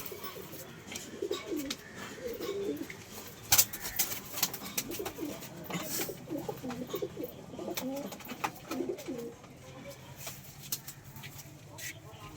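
Pigeons coo in a low, repeated murmur through most of the span, with scattered faint rustles and chirps in the background.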